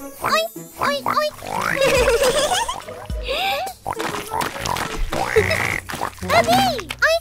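Children's voices sing an Indonesian kids' song, mimicking a pig's oinks in bouncy repeated calls over bright music, the imitated grunts loud and rhythmic amid the singing.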